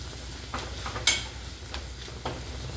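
Turmeric and stored masala stirred into rice in a pan, heard as a few soft, spaced scrapes and taps over a faint sizzle, quiet and close.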